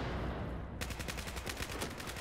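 Video game gunfire crackles in fast automatic bursts, opening with a steady rush of noise before rapid repeated shots kick in and rattle on through the rest, close and loud, with no one talking.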